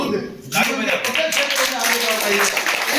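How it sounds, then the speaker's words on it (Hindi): Steady clapping from a group of students in a classroom fills the clip, dense and continuous, with voices talking and calling over it. "ताली बजाओ"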